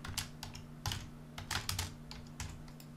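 Typing on a computer keyboard, a quick irregular run of close, crisp key clicks in short bursts over a low background hum.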